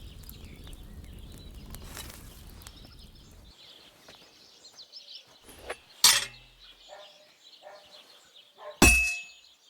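Two sharp metallic clangs of a hammer striking an anvil in Kingdom Come Deliverance 2 ring out several seconds apart, each with a bright ringing tail, over faint background rustling and quiet chirps.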